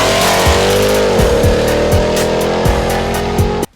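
A Ram TRX pickup truck's engine roars loud and close as it accelerates hard, climbing in pitch through several quick gear shifts before cutting off abruptly.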